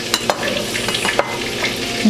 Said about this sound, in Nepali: बटर पग्लिन थालिसकेपछि अब मैले यसमा राखिदिएँ रातो खोर्सानी,